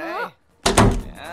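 A door shut with a solid thunk in a Tamil comedy film scene, one loud close impact right after a brief shouted voice.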